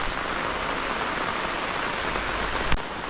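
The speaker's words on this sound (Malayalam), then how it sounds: "ഭയങ്കര മഴ കേട്ടോ നല്ല സൂപ്പർ മഴ" Heavy rain pours steadily through a forest as a dense, even hiss, loud and close, with a brief sharp knock near the end.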